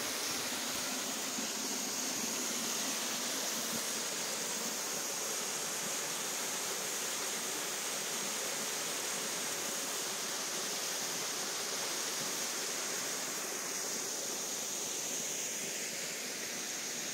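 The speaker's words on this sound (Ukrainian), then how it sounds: "Водоспад не дуже повноводний." An even, unbroken roar of a low-flowing waterfall at Sopit in late October, soft and distant, holding the same hiss throughout.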